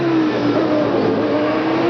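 Alain Prost's Formula 1 car at the 1993 South African Grand Prix screams under braking, a loud, continuous high-revving engine note with a slight pitch drop as the car slows.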